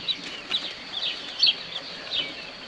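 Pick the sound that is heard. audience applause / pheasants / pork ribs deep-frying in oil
pheasants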